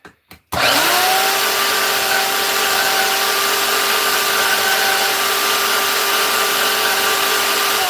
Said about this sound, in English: nibble it out a little bit with the grinder, or the whatever this thing is, bandsaw